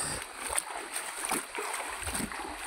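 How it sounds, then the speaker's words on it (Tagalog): A mountain stream in Marinduque flows nearby, a soft, continuous watery rush with small splashes and gurgles, fairly faint. "Guys, batis."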